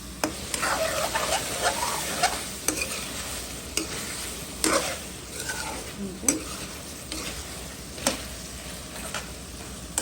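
Mixed vegetables with prawns sauté in a pan, a steady sizzle punctuated by regular sharp scrapes and taps of a spatula against the pan, close and fairly loud.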